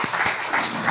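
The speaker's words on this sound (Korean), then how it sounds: "우리 성가대 다시 한번 격려의 박수 하겠습니다" A church congregation applauding its choir during a Sunday worship service, a brief burst of steady clapping from many people filling the room.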